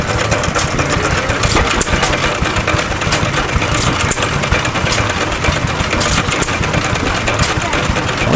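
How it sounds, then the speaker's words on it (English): A hit and miss engine runs continuously, with rhythmic firing bursts and a mechanical chug throughout; no talking over it. "you can hear that distinctive sound of the hit and miss engine."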